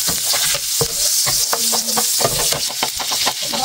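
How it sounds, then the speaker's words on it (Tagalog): Butter sizzling and frying in a pan while being stirred, a steady bright hiss with scraping strokes of a utensil, close and continuous with no talking. "Tunog yung butter."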